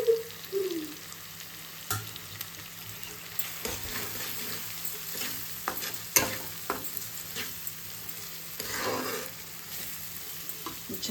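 Prawns sizzle steadily in a hot pan with spice powders while a utensil scrapes and taps through them, giving sharp clicks over a continuous frying hiss.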